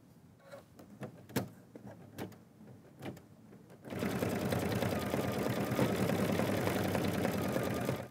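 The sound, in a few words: sewing machine top stitching over a satin stitch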